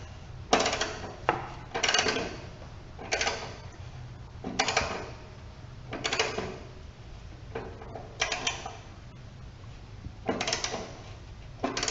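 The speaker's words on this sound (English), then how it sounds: "now we can remove the bolts into the top of the muffler itself, and they're 10 millimeter" Wrench work on 10 mm bolts at the top of the muffler on a John Deere L130 riding mower, with a series of separate metallic ratcheting and clinking bursts at an irregular pace, close and fairly quiet.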